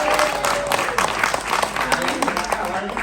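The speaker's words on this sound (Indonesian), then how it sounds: "tepuk tangan dong." A studio audience on an Indonesian entertainment show claps at once, a busy burst of overlapping handclaps, steady and moderately loud, with voices mixed in underneath.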